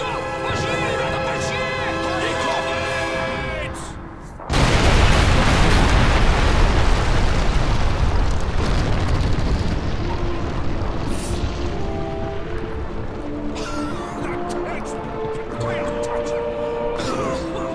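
A large explosion bursts in Call of Duty 2, a sudden loud boom followed by a long rumbling roar that slowly fades, with talking over the game audio.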